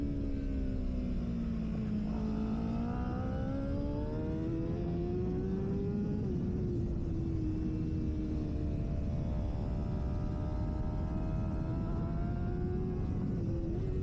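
A Honda CBR1000RRR superbike engine recorded onboard during laps roars loudly and continuously, its pitch rising and falling with throttle and gear changes, with no talk.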